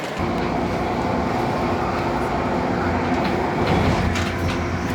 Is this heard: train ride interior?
yes